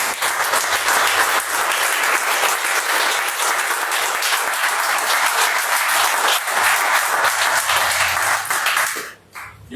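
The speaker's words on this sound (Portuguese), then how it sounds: "E que o Senhor receba, ó Deus, uma belíssima salva de palmas para ti nesse momento." Congregation applauding in a church, dense sustained clapping at steady loudness that cuts off abruptly near the end.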